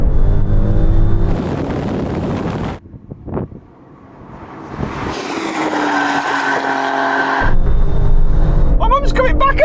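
Engines of a Mercedes-AMG A45, BMW M340i and Alfa Romeo Stelvio Quadrifoglio roaring during a drag race, loud and close with wind buffeting, a brief lull, then revs climbing again, with excited talk from inside a car.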